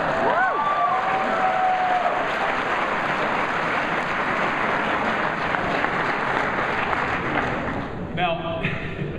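An audience at a PAX East 2011 gameplay demo of Kingdoms of Amalur applauds loudly in a steady, dense wash of clapping with some cheering, with voices in the room, and the applause fades near the end.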